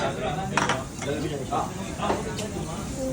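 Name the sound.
plates and dishes clattering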